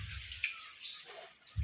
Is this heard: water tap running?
yes